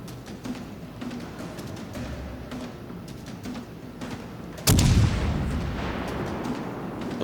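Naval gunfire in the World of Warships Legends video game, with steady rumbling battle noise and scattered shots, then a loud heavy boom partway through that rolls off into sustained roar.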